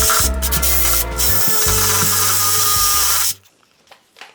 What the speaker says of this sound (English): basically I'm just going to be cutting off a little bit of this screw